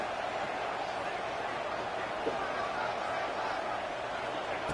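A stadium crowd at a college football game roars in a steady, dense wash of cheering that holds at an even level from start to finish, with no clear speech on top.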